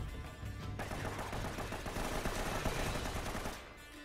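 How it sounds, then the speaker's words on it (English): Loud, dense gunfire from the video game Uncharted: Drake's Fortune, with rapid overlapping shots and bursts that run almost without pause, then ease off near the end. "Can't tell where that other shot came from"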